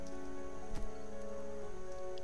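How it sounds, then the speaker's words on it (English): Steady rain in the game Starbound, a constant close patter on a surface that continues unbroken throughout with no talk over it. "I'm getting really tired of all this rain."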